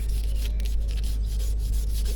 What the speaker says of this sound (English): The first and most tedious part of this is the sanding the old paint.